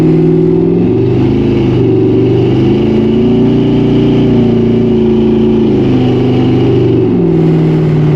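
LS-swapped 1955 Chevy Bel Air V8 accelerating hard, a loud, close, continuous engine roar rising and falling in pitch as it revs through the gears, with no talk over it.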